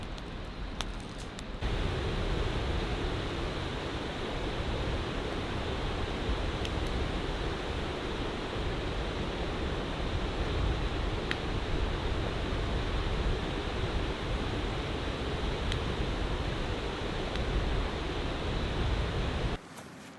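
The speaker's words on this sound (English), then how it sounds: "listen to the sound of the river." A river rushes steadily through a valley beside a rainy campsite, a constant broad wash of flowing water that stays even and moderately loud throughout, with no talk.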